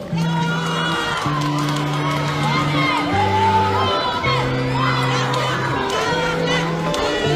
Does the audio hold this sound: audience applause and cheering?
yes